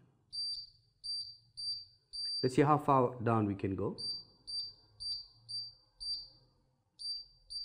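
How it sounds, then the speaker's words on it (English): A high electronic buzzer beeps in short, evenly spaced bursts, about once per second, with a brief stretch of close-up speech over the middle. "when I put my lead there and there of my buzzer, I got a sound"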